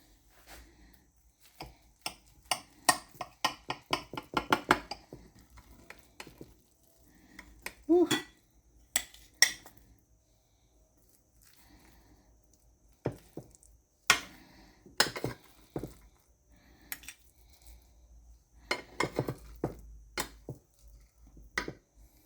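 A utensil cutting into a dish of still-hot banana bread baked oatmeal, giving scattered scraping and clinking taps against the dish, fairly close, with quiet pauses between strokes.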